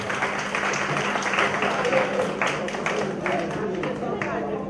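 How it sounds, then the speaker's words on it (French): An audience at an association's evening gathering in Paris claps steadily throughout, a dense continuous applause with voices and chatter mixed in. "je souhaiterais qu'on les applaudisse très très fort déjà dans un premier temps"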